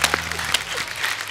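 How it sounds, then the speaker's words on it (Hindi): Studio audience at a comedy talk show bursts into loud, dense applause, a steady wash of clapping with a few sharper claps. "जोरदार ताली हो जाए।"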